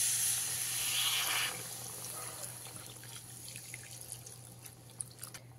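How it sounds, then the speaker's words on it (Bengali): Water poured into a potato and egg curry in a cooking pot, a brief splashing pour at the start. It fades into quieter trickles and faint drips over a low steady hum. "এবারে এর মধ্যে দিয়ে দিতে হবে পরিমাণ মতন জল।"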